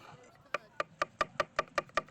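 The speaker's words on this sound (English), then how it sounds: "I'm just chopping." A knife chops tomatoes on a cutting board outdoors, giving about eight sharp, evenly spaced knocks, close and fairly loud against a quiet background.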